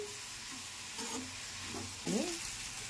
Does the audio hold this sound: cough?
no